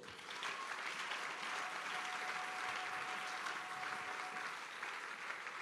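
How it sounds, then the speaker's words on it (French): A church congregation applauds and cheers loudly at a deliverance service, with steady, sustained clapping from a large crowd throughout. "Acclame très fort"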